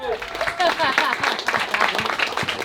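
Audience applause at a New York poetry reading, a dense steady patter of clapping from a room crowd with cheering voices mixed in throughout.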